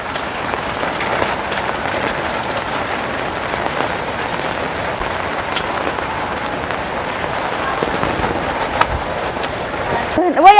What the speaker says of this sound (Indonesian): Nah, hujan ya.